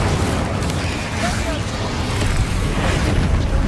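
The Incendio fire spell cast in Hogwarts Legacy: a loud, dense roaring burst with rumbling booms and crackle, sustained across the whole moment, with combat noise layered underneath.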